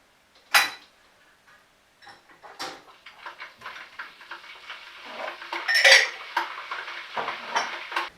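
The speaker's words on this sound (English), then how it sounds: "I usually put away dishes while it's boiling" Dishes and cutlery are put away in a home kitchen while a kettle boils, with scattered clinks and clatters of plates and silverware, one sharp clack early and busier rattling later, over a faint steady hiss.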